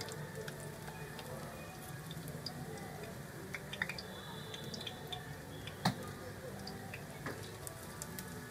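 Banana cakes fry in hot oil at home, a faint steady sizzle with scattered small pops and crackles throughout, close by.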